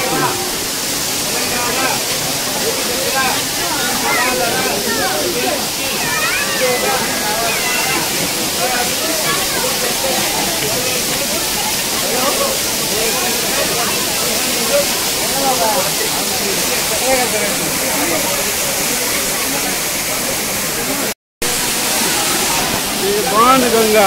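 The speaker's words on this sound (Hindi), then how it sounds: "बाण गंगा देखिए कैसे पानी का धार है।" Ban Ganga waterfall stream at Tirupati, a continuous loud rushing hiss of falling water that holds steady throughout, close by, with a very brief dropout near the end.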